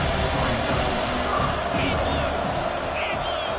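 A football stadium crowd roars loudly and continuously on a third-and-goal play, a dense wall of cheering and yelling with faint whistles, loud enough to force a false start.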